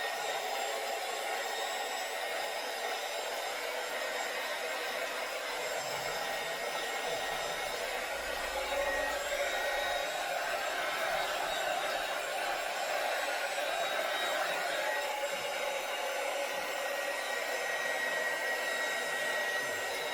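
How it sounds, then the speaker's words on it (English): A heat gun blows hot air around a gift hamper holding chocolate, a steady, unbroken airy whoosh with a faint motor hum. It holds at an even, moderate level for the full twenty seconds with no talking. "I get my lovely heat gun and you just go around"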